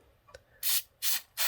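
Hairspray hisses onto a miniature wig in three short, bright bursts, each about a quarter second, close and clear after a faint click, with no speech.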